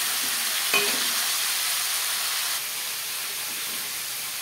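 Fish heads fry in hot oil in a kadai, giving a steady, moderately faint sizzle, with a brief clink of utensils near the start.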